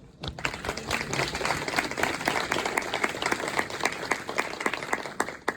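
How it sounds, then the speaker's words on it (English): An audience at a world championship public speaking contest applauds itself at the speaker's invitation, steady loud clapping from a large crowd filling the room throughout. "put your hands together for yourself"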